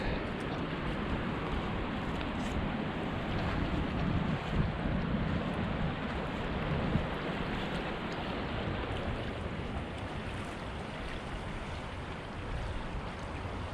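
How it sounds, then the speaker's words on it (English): Steady broadband rushing of a flowing river in Easton, Pennsylvania, a continuous wash with light wind noise and no distinct events. "Always peaceful just watching the river flow."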